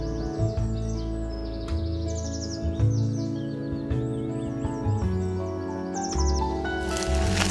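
Bright green parrots living wild in the UK give repeated high chirping calls and squawks, layered over a steady, full background of music.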